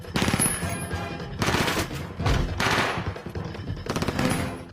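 Rapid bursts of automatic gunfire from police training rattle out in several loud volleys separated by short pauses.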